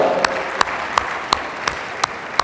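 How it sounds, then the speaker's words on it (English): A crowd claps at an MBA entrance exam seminar, and a few loud, evenly spaced single claps stand out close by against a softer spread of clapping behind them. "big round of applause for Shrishti Kalra"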